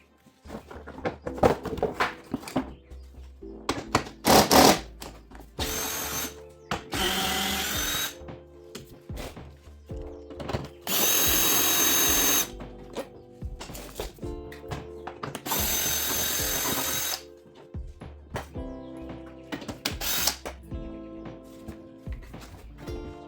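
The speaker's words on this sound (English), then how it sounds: "I'm gonna go ahead and take off the fuel tank so I can get to the carburetor" Hand and power tool work removing the fuel tank from a Yamaha Grizzly ATV: repeated close ratcheting and drilling bursts, two longer sustained runs, and clunks of parts being handled, with no talking.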